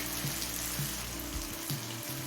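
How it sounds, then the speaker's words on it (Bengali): Tomato with cumin paste and Kashmiri chilli powder frying over low to medium flame in a pan for khichuri, a steady moderate sizzle with a few soft clinks of stirring, no voices. "লো টু মিডিয়াম ফ্লেমে টমেটোটা তিন চার মিনিট ভেজে নিয়েছি"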